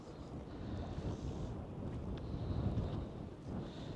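Wind rumbles steadily across the microphone at the Baie de Somme near Le Crotoy, a continuous low buffeting roar with no pauses.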